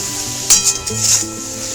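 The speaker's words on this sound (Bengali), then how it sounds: "পেঁয়াজ আর টমেটোটাকে ভাজবো" Steady sizzling of onion and tomato frying in a pan, with occasional stirring scrapes and spatula clinks nearby.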